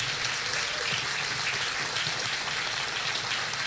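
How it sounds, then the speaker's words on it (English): Steady, dense applause from an audience, a continuous wash of clapping with no pauses and no voices. "Can we have one more round of applause for everybody up here?"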